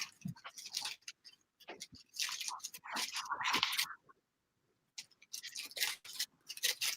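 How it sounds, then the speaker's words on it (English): Close, crisp tearing and crinkling of paper in several bursts, with a short pause of near silence before more rustling. "That was my paper being ripped."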